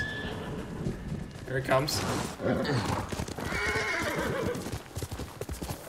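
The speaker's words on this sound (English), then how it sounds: "Let's get our horse." Rhythmic hoofbeats of a galloping horse with a whinny, mixed with game sound effects from Ghost of Tsushima while someone talks over it.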